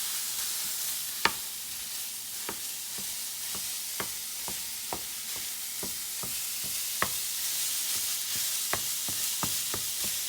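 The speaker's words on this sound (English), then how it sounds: "start out with 2 pounds of ground beef, which we're going to put in our preheated pan here. And we're going to start by breaking this up" Two pounds of ground beef sizzles steadily in a preheated pan for nachos, with a utensil scraping and breaking up the meat in sharp, irregular clicks and taps close by, no talking.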